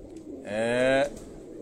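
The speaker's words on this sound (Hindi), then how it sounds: "ये दोस्तों ज़रा बुरा मना रहा है ये कबूतर।" A single pigeon coos once, close by, a short throaty warble rising and holding for about half a second against a quiet background.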